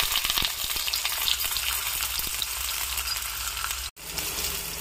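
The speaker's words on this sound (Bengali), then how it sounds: "এবার পটলগুলোকে হালকা ভেজে নেবো।" Pointed gourd pieces fry in hot oil in a kadai, giving a steady, close, dense sizzle with small crackles throughout and a brief cut near the end; no voices.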